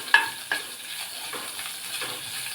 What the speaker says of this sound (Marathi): थोडं हिंग हे थोडं परतून घेऊया.